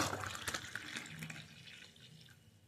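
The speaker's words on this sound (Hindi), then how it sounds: "ये पानी इस मग में पोर कर लेंगे" Freshly boiled water poured into a mug holding lemon and coffee, a short soft gurgling stream that tapers off as the pour ends, fairly quiet and close.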